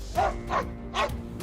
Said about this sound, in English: The dog barks like crazy and even tries to bite the polar bear on the nose.